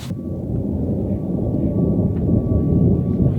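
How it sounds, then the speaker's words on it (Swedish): Thunder rumbles steadily at Everest base camp, a continuous low roll that builds slightly over a few seconds, distant but fairly loud, with no voices. "Det är första gången jag hör åskan här."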